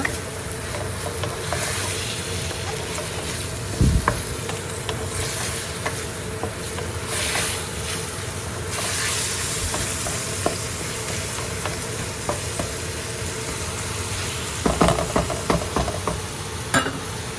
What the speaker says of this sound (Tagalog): Haluin lang ng haluin hanggang maluto siya.